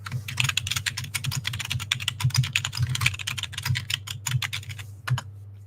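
Rapid, continuous typing on a computer keyboard, with dense clattering keystrokes close up over a low steady hum, and no talking.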